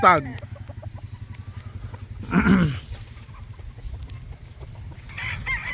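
Tethered stags, young roosters, crowing in a farmyard: one crow opens the clip and a second, louder crow rises midway, over a steady pulsing low rumble, with people talking nearby.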